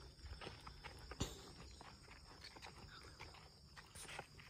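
Footsteps crunch along a forest path at night in the Sabah area, an irregular series of faint steps over a noisy outdoor background with occasional sharper thuds.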